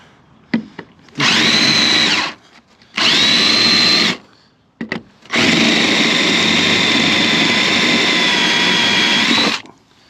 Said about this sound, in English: let me drill those out real quick and we'll take this fender out